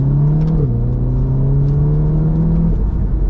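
A Volkswagen Golf R pulls away with a steady engine hum that holds one pitch, dips briefly, then settles and fades into road rumble, heard from inside the car.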